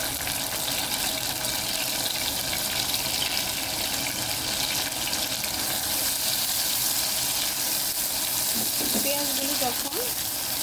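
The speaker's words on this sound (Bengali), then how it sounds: "এখন এই তেলের মধ্যেই আমি পেঁয়াজ কুচি দিয়ে দেব।" Chopped onions sizzling in hot oil in a pan after eggs were fried, a dense steady crackling hiss that runs loud and unbroken throughout, with a brief tonal sound near the end.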